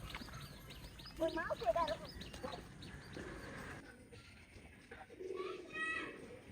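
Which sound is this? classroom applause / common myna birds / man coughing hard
common myna birds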